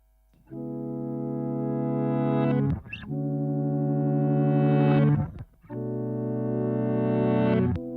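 Three sustained, swelling distorted guitar chords, played in reverse, each fading in and cutting off abruptly, with a short gap between them.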